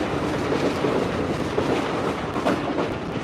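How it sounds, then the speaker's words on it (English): A short commuter train in a video game passes over a bridge, a loud, continuous rumbling roar with faint rhythmic rail clatter heard up close, with no voices. "Just a little commuter train."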